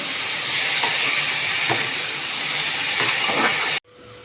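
Sliced onions fry in hot oil in a pan, a loud continuous sizzling hiss that holds steady and then cuts off abruptly.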